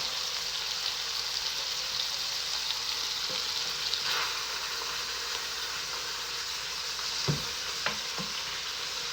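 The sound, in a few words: scraping ground meat in a pan for Bolognese sauce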